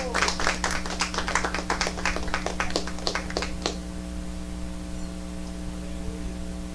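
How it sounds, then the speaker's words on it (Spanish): A church congregation claps in praise to the Lord, a burst of dense handclaps over a steady electrical hum that stops abruptly partway through, leaving only the hum. "Dale un aplauso al Señor."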